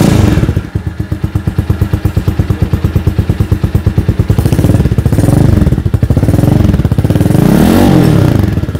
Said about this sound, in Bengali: তো এই মুহূর্তে আমরা বাইকের সাউন্ড শুনিয়ে দেবো।